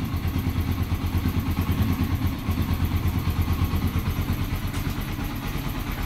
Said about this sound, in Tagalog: kahit wala siyang battery connection, maandar pa rin ang makina.